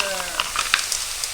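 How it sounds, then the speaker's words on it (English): Edamame and green peas sizzling in a pan while being stirred, a short burst of broadband crackle with a few sharp spatula clicks, close and fairly quiet, with no speech. "And some green peas. I'm going to use 2 cups. Let's give it a little stir."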